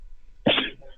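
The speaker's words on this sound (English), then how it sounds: "Sneeze." One short, sharp sneeze-like burst from a person, close and alone against a quiet background.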